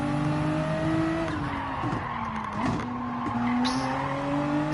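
Car tyres slipping and sliding at Spa in Gran Turismo 7, a steady race-car engine drone with long tyre squeals wavering in pitch and a brief skid near the middle, loud and close throughout, without voices.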